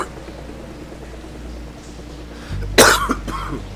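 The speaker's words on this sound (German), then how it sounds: "der Husten ist immer noch da" A single harsh cough bursts out near the mic after a stretch of low background noise, with a short rough tail from the throat.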